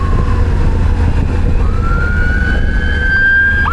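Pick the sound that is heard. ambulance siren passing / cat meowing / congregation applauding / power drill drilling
ambulance siren passing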